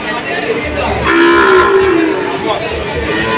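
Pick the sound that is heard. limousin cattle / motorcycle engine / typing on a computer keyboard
limousin cattle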